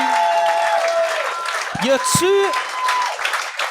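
An audience claps in a steady round of applause while voices speak over it and a couple of sharp swooping sounds cut through midway.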